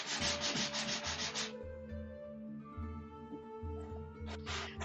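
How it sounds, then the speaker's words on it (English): Cosplay wings are sanded by hand in quick back-and-forth strokes, a close, raspy rubbing that runs in rhythmic bursts, stops briefly, then resumes. "keep sanding, Martin."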